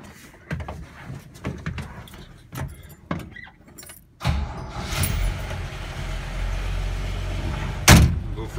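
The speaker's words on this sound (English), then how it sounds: "So we'll fire it up and take her for a quick drive here." 1976 Toyota Land Cruiser FJ40: keys jangle and a door clunks, then the engine cranks and catches into a steady idle rumble, with a sharp knock near the end.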